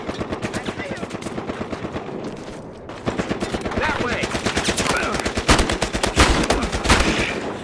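Rapid automatic gunfire in Battlefield Hardline, loud and continuous with a steady staccato rhythm of close shots that thickens into heavier overlapping bursts, vehicles moving around amid the firing.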